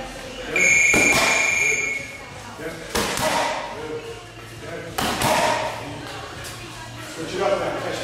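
Boxing punches land on focus mitts during an intermediate mitt-work session, several sharp slaps and thuds spaced a second or two apart. A coach talks between the hits, and a buzzer sounds briefly near the start.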